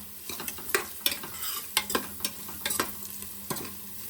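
An onion mixture sautés in a pan for dal khichdi, with a close, steady sizzle broken by rhythmic scraping strokes of a spatula against the pan every half second or so, and no voices.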